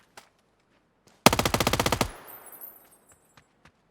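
The JS-9 submachine gun fires one rapid burst of about a dozen sharp, evenly spaced shots in a video game, followed by a short reverberant tail, with faint isolated clicks before and after in near silence.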